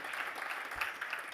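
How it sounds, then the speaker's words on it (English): An audience at a climate action meeting claps briefly, a soft, fairly distant patter of many hands lasting just over a second. "let's give them a clap."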